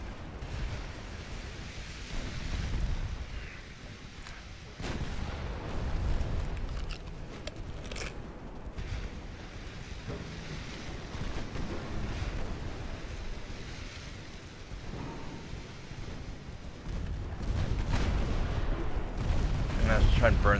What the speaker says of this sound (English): Let's put the secondary guns into you.